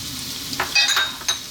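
Onion, garlic and carrots fry in oil over a lively above-medium heat for a vegetable and lentil stew, giving a soft steady sizzle broken by a few short stirring scrapes, close and fairly quiet with no talking.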